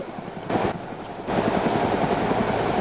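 Helicopter in the video game DayZ, its rotor thumping steadily as a continuous loud drone, with brief dips in level and a louder stretch toward the end.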